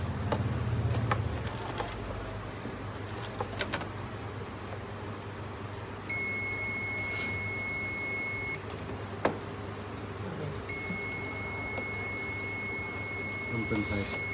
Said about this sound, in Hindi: बीप रीडिंग दोनों करेगा।